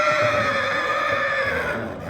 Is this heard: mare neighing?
yes